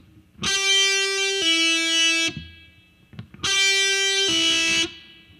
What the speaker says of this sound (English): It's going to be a pull-off. So you're going to be going from your pinky